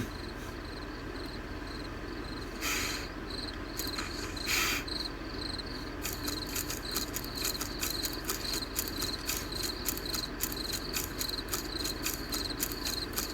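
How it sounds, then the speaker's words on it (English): Crickets chirping at night in the video game Path of Titans, a steady rhythmic pulsing chorus that grows denser partway through, over faint ambient background with no talking. "But yeah, the cricket sounds are nice"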